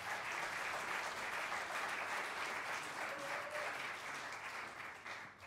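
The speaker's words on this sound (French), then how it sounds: "Je voudrais un tonnerre d'applaudissements pour Monsieur Rudy Coquelet au son" Sustained applause from a concert audience at Bozar, a dense wash of clapping held steady throughout and easing slightly toward the end.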